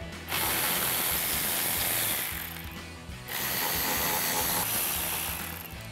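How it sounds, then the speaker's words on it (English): A ratchet with a 10mm socket loosens headlight bolts on a 2009-2018 RAM 1500, a rapid, loud continuous clicking that runs for about two seconds, pauses briefly, then resumes, close and with no talking. "We'll remove those with our 10mm socket as well."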